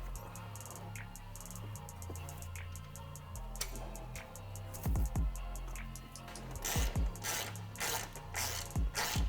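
Ratchet snugging bolts on the front bumper of a 2010-2012 Mustang during an aluminum front install: rapid clicking pawl strokes in repeated bursts, getting louder and closer toward the end.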